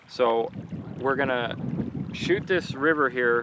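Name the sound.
wind noise outdoors in New Mexico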